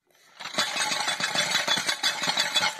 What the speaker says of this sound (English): It is jam jar lids.